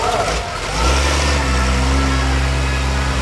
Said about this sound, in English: the truck has a completely different sound. That's because it's actually powered by a Cummins turbo diesel.